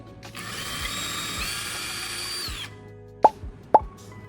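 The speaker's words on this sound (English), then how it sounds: "I'll drill a pilot hole into each of these marks to make inserting the screws easier." A power drill bores pilot holes into a wooden block for a knife-sharpening jig, a steady whirring whine lasting about two seconds, followed by two sharp, close clicks.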